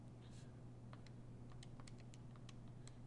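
Calculator buttons being pressed in quick, light clicks, about a dozen small taps over a steady low hum, faint and close, with no talking.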